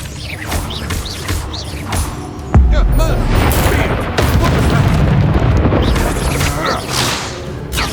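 Confringo fire spell blasts in the video game Hogwarts Legacy, a loud booming explosion hitting hard partway through, followed by rumbling crackle and combat noise, with scattered sharp bursts before and after.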